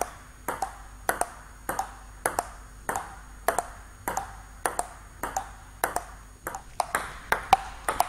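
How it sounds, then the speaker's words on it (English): Table tennis ball struck with pushing strokes in a steady rally, sharp bright pings and bounces repeating roughly twice per second, close and clear with no voices. "Let's listen to the ball when we're pushing."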